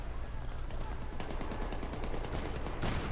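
Suppressive gunfire in a first-person shooter video game on the Grand Bazar map: rapid continuous automatic bursts, loud and dense throughout, with heavier blasts near the end.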